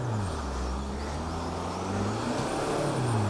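A Land Rover Defender engine on winter tires labors steadily at low revs on a climb, its drone rising and falling slightly under strain, heard from inside the vehicle.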